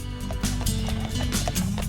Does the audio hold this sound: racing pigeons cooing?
no